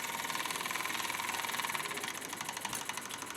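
A Meccano model engine runs steadily nearby with a fast, even mechanical chatter and a faint whine, holding a constant rhythm throughout with no voices.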